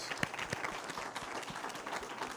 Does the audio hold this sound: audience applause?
yes